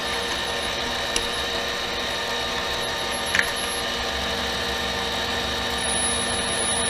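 A 1/4 inch reamer cuts into a workpiece on a mini lathe with a tightened chuck, giving a steady, even machining hum with faint high whine, continuous throughout with one or two small knocks.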